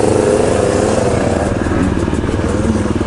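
A KTM two-stroke dirt bike engine revs loud and close, its raspy buzzing pitch rising and falling in quick throttle blips with no voices.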